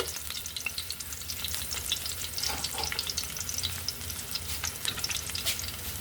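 Garlic and onion sauté in a hot pan as the base for chicken curry, giving a steady, close sizzle with crackling pops and occasional stirring scrapes throughout.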